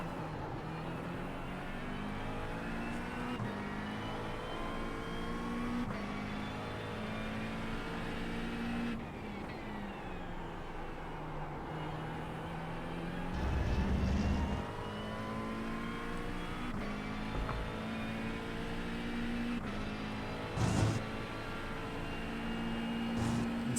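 A McLaren race car engine screams through a lap, its high revs rising and falling with rapid gear shifts under braking and hard acceleration out of corners, loud and continuous with no talk.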